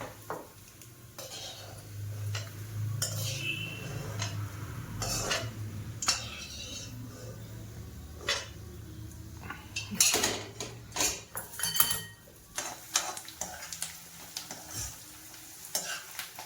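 Onion frying on low gas in a pan while being stirred, with a soft steady sizzle underneath and intermittent scraping and clinks of a spoon against the pan, close and moderately quiet, no talking.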